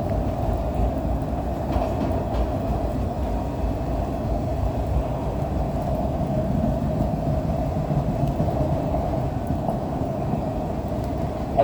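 A CSX freight train passes steadily in the rain, hauling Conrail autoracks, with a continuous loud rumble and rolling-stock drone holding for the whole stretch.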